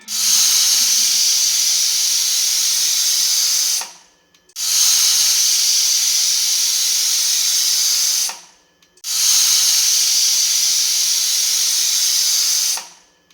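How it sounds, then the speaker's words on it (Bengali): A pressure cooker boiling jackfruit lets out three long, loud, hissing steam whistles, each lasting about four seconds with short breaks between them. "এটা সিদ্ধ করতে 4টা মতো সিটি লাগবে। 4টা সিটি দিলে ভালো মতো সিদ্ধ হয়ে যাবে।"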